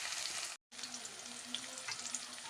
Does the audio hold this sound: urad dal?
yes